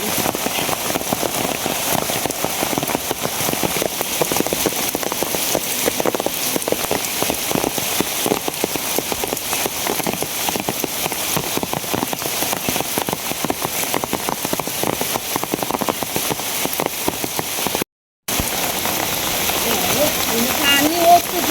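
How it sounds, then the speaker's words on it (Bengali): Heavy rain pours steadily and loudly during flooding, a dense unbroken patter on surfaces that runs throughout with one brief dropout near the end, with voices faintly mixed under the downpour. "আজকে বৃষ্টি আছে"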